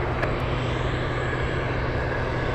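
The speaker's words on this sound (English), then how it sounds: "Looks like we have a freighter taking off soon." A cargo freighter airplane taking off at Anchorage airport, a loud steady jet engine roar heard from a distance and holding constant throughout without any voices.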